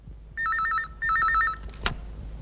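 An old telephone rings indoors in a comedy film scene, giving two quick trilling bursts of electronic bell tone, moderately loud against quiet room background, followed by a brief click as it is picked up.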